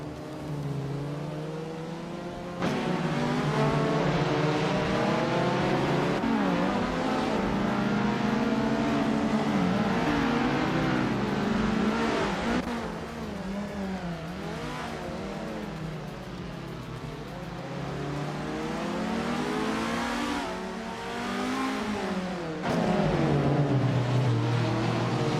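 Race cars, among them a 1965 Alfa Romeo GTA, roar past continuously during a race, engines revving and shifting pitch as they run nose to tail, loud and close with no talk.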